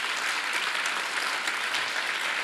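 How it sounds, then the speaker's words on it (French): Audience applause at a film and series festival masterclass celebrating a Grammy win, dense and steady clapping from a full room that holds at an even level throughout. "Je pense qu'on peut applaudir quand même un Grammy."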